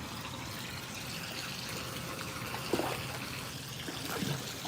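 Hot water runs and trickles steadily into a basin, sounding like a filling hot tub, with a continuous close wash of flowing water and a few small splashes.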